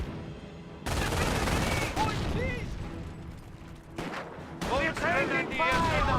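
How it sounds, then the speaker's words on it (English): Rapid gunfire and explosions from a Company of Heroes battle, with an MG42 machine gun among the dense, continuous bursts that run nearly throughout, loud and close, under a speaking voice with a brief lull mid-clip. "Captain got gunned down by the MG42."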